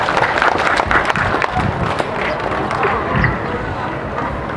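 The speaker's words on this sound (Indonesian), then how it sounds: "beri tepuk tangan yang meriah buat Tuhan Yesus" A church congregation at a building dedication service claps loudly and steadily, crowd noise mixed in, continuing throughout.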